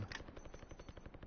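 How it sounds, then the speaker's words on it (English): Rapid automatic gunfire in the video game Call of Duty Warzone, a steady rhythmic burst of close shots repeating throughout, loud and dense with no talk over it. "I'm giving you some cover fire"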